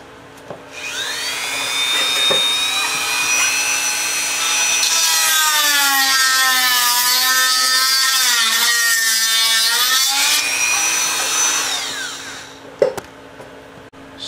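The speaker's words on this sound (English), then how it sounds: "It's an old beat up grinding wheel, and it seems to be getting some of it out of there." An old, worn grinding wheel grinds on a Sears generator part to free stuck bearings, a loud, steady, close whine that holds for about twelve seconds, its pitch dipping and wavering, then cuts off with a couple of clanks.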